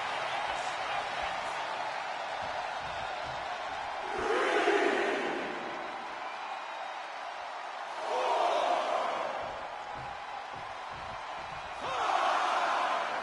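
Wrestling arena crowd in WWE 2K24 swells into loud cheering and roaring in three waves, between which a steady crowd din persists with thuds and commentary-like voices.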